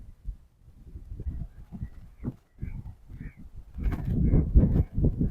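Birds in a marshland call with repeated harsh, cawing cries. The calls are fairly close and come in uneven bursts, with a denser, louder flurry near the end.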